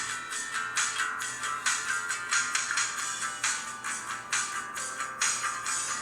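A Palm Pre smartphone plays a notification tone through its small built-in speaker, a bright, thin chime repeating in short bursts at close range without any talking.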